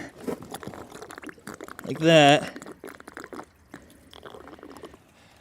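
Degreaser solvent is poured through a side opening into the steering clutch of a John Deere 450B, giving a short, bright, gurgling pour in the middle while someone talks before and after it.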